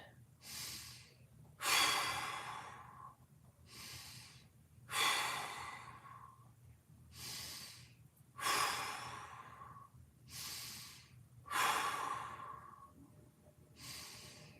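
Deep, slow breaths during a yoga hip stretch, about five full inhale-and-exhale cycles in a steady rhythm, close and clearly audible with soft airy rushes and no talking.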